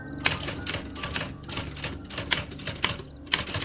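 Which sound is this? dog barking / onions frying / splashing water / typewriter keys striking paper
typewriter keys striking paper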